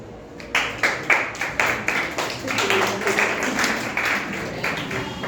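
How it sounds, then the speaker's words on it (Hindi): High school students in a classroom clap in distinct, fairly rhythmic bursts, starting after a brief pause and settling into looser, denser applause, with faint voices mixed in. "उनके लिए तालियां बजाओ."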